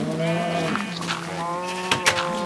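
Sheep bleating in a farm-building video game, a couple of short wavering bleats over sustained background music tones, clear and close with no speech.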